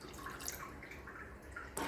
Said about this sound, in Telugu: ఇంకొక హాఫ్ గ్లాస్ వాటర్ వేసానండి